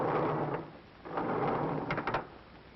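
A studio sound-effects artist imitates elevator doors opening and closing with a prop, giving two broad rumbling slides about a second apart followed by a few quick clattering knocks, fairly close and with no talking.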